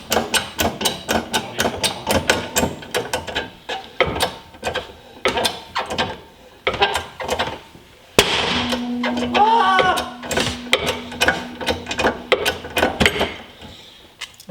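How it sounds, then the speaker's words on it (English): A press forces wheel studs out of a wheel adapter, giving close, loud metallic clicks, creaks and sharp cracks as each stud breaks free, with a sustained groaning tone midway and scattered mechanical clatter. "I'm going to start applying some pressure on the press, and it's going to push each one of the studs out."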